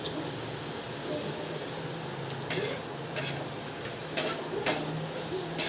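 Besan batter poured into a pan over browned onions and stirred for pithale, a steady low sizzle of frying with scraping spoon strokes and a few sharper clinks near the end.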